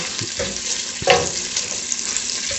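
Two slices of bacon, diced ham and bacon fat frying in a pan, giving a steady close sizzle with a soft clink or stir about a second in. No voices.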